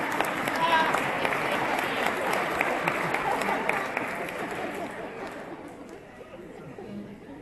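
Audience applause during a talk, a dense wash of clapping mixed with crowd chatter that gradually thins and fades toward the end.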